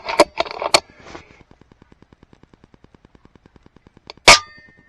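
An FX Impact airgun fires at a 15-inch steel rabbit plate 225 yards away: a sharp crack with clangs early, a long run of quick, even faint ticks, then one loud distant impact near the end.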